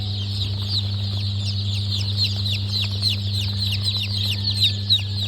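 Native chickens at a farm give repeated chirpy clucks and peeps in a steady stream, with a strong low mechanical hum running beneath throughout.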